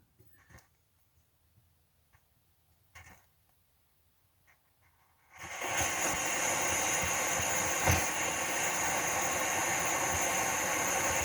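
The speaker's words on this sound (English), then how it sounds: "so it fires up, should warm up right away, and then turn into a nice flame for us" A multi-fuel camping stove burner fires up: a few faint clicks and taps in near silence, then a sudden, steady, loud rushing roar of the flame that holds for the rest of the clip.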